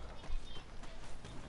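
Hooves of a horse approaching in the Red Dead Redemption 2 video game, a faint, fast clip-clop patter under a steady wash of background noise.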